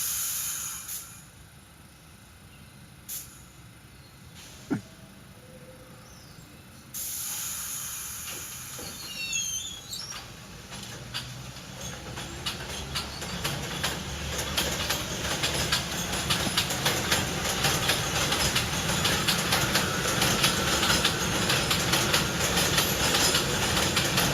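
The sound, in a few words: R68 subway train leaving 25th Avenue station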